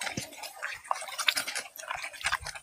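Vegetable leaves are rinsed and rubbed in water, giving soft close splashes, drips and wet rustles in short irregular bursts, quiet and without talk.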